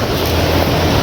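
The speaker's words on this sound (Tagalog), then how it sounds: "Laki na naman ng alon" Big sea waves on a fishing trip, heard as a loud, close, continuous broadband rush of surging water with no pauses.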